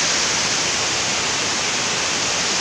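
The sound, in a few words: waterfall at Wawa Dam, rushing water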